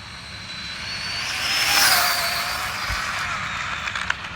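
A 100mph Traxxas Slash 4x4 RC car with alloy battery tray upgrades accelerates, its electric motor rising into a high whine that swells and fades as it speeds past, heard from a short distance over outdoor noise.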